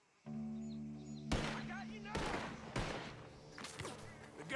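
Gunfire erupts in the Red Dead Redemption 2 video game, with several loud sharp shots and bursts in quick succession after a steady ambient hum.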